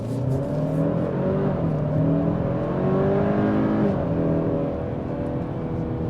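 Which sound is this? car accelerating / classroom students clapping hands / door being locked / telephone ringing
car accelerating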